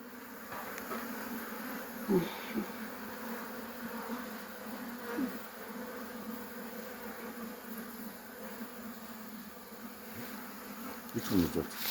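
Honey bees buzz around an opened beehive during an inspection with smoke, a continuous dense droning swarm close by, with a few louder passes of single bees near the microphone.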